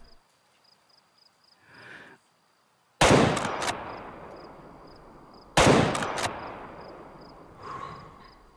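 Two loud, sharp rifle shots in the hunting game Way of the Hunter, each a sudden crack followed by a long rolling echo that decays over a couple of seconds, set against quiet outdoor ambience with faint insect chirping.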